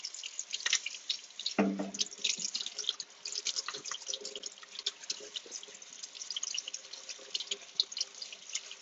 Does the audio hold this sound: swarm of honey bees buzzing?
no